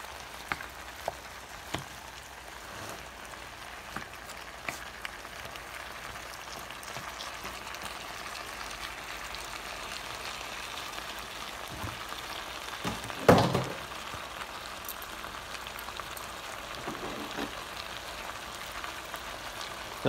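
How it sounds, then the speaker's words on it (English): Tomatoes fry in a pan for Spanish sofrito, giving a soft, steady sizzle like light rain on a surface, with scattered small pops and one louder scrape or stir near the end, and no voices. "I'm going to add the tomatoes."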